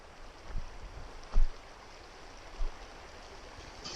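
The swift, deep main channel of the San Juan River flows past a ledge, a steady broadband rush of moving water held at moderate level, broken by a few low thumps, with no voices.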